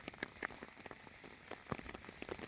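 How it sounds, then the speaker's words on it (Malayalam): Heavy rain falls in a steady, soft wash, with scattered drops pattering and ticking on a nearby surface, fairly faint and with no voices. "തിരിച്ചു വന്നപ്പോ ഭയങ്കര മഴ"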